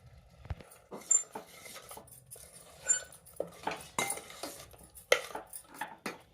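A spoon stirs ground masala and drumstick pieces into sambar in a pot, giving scattered clinks and scrapes against the metal at an uneven rhythm, close and fairly quiet, with no talking.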